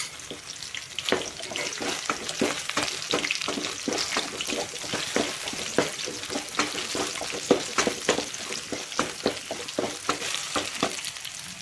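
Garlic, onion, ginger, curry leaves, pepper, fennel, cloves and cinnamon fry in hot oil for a chicken gravy, sizzling steadily up close with repeated scraping stirs of a spoon in the pan.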